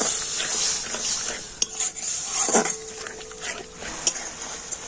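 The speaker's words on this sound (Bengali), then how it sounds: "এখন আমি সমস্ত মশলা খুব ভালো করে কষে নেব" Spices being stir-fried in oil in a pan for a pointed gourd and egg curry, with a steady sizzle and scraping spoon strokes against the pan, a few sharper clinks, close and moderately loud.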